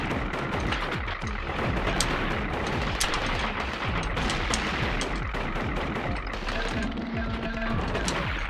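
Rapid gunfire and bullets from the pixel-art game Gato Roboto rattle steadily and densely, mixed with small booms and electronic effects, loud and constant without speech.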